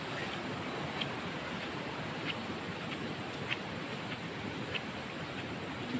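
River water rushes steadily through a jungle, a broad continuous wash of flowing noise with faint clicks scattered through it and no voices.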